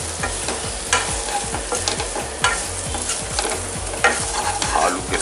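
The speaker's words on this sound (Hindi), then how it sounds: "ये मसाला इसके अंदर, और इसको मिक्स कर लेंगे।" Coarsely ground roasted masala being stirred into potatoes in a hot pan for achari aloo. A steady sizzle runs under rhythmic spatula scrapes, with a few sharper strokes standing out.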